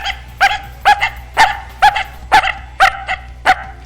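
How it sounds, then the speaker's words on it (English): An edited, pitch-raised sound effect made to resemble a small dog gives eight short, sharp yaps at steady, evenly spaced intervals, close and clear with nothing else underneath. "It sounds much more like a dog, a smaller dog."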